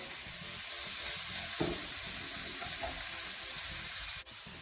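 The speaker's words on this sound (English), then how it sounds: "What I'm going to add to the pan now is 1 large red onion and 2 cloves of garlic, which I have crushed." Red onion and crushed garlic sizzle steadily in an oiled pan, a loud continuous frying hiss with a couple of soft utensil scrapes and a brief dip near the end.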